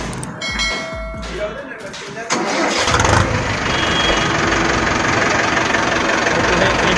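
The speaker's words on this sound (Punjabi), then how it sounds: "ਤੁਹਾਨੂੰ ਇੱਕ ਵਾਰ ਟਰੈਕਟਰ ਸਟਾਰਟ ਕਰਕੇ ਦਿਖਾ ਦਿੰਦੇ ਹਾਂ ਜੀ।" An Arjun Novo 650 4x4 tractor cranks with a brief starter whir, then its diesel engine catches and settles into a loud, steady rumble up close.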